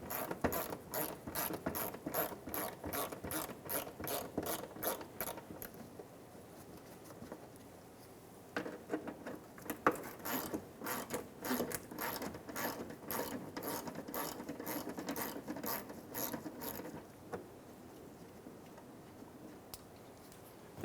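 A hand ratchet spins out the two 10mm bolts on the wheel arch molding of a 2014-2019 Toyota Highlander, loud close rapid clicking in bursts with a pause in the middle, no talk.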